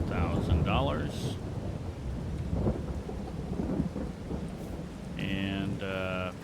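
Rain and rolling thunder in the Farming Simulator 22 game, a steady rainfall wash under low rumbles, with brief tonal game sounds and beeps near the start and end.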